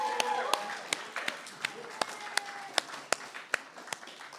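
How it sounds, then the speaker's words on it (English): Sparse, evenly spaced claps ring out at a live poetry event, honouring the tech team. The sharp single claps come at a steady beat over a quiet room, with a voice talking underneath. "Let's give them a round of applause."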